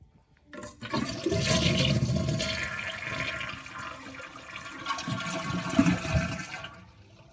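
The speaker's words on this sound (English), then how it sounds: "I'm gonna flush the toilet to drain all the water out of it" A toilet flushes with a rushing swirl of water as it is drained for repair of a running toilet, followed by gurgling and refilling that tapers off near the end.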